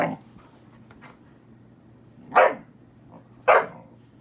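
A dog cooped up indoors barks three times, one bark at the start and two sharp, loud, close barks later with short pauses between them, over a low steady hum.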